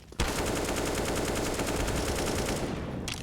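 Rapid AK rifle fire in Counter-Strike on the Inferno map, a loud sustained burst of closely spaced shots running for about three seconds before stopping abruptly.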